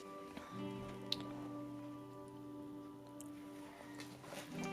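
Water poured into a houseplant's pot soaks through the soil and drains out, giving faint soft drips and trickles over a steady low background hum, with a couple of small splashy ticks.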